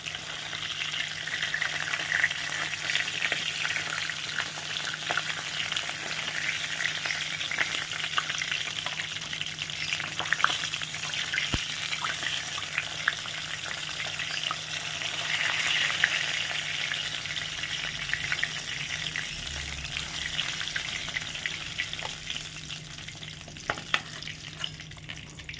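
Katla fish fry in hot oil, giving a continuous moderate sizzle and crackle with occasional scraping and stirring noises.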